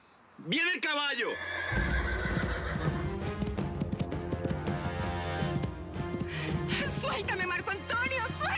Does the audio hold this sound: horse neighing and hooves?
yes